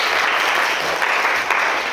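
Congregation at a Bible lecture on the Gospel of John applauding, a loud, even burst of many hands clapping that fills the whole moment with no talk over it.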